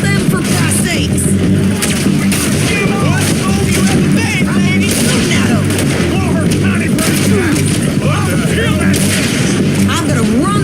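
Dense gunfire in the video game Red Dead Redemption 2, with loud repeated shots and booming blasts over a constant rumble of hooves and action, mixed with shouting voices throughout.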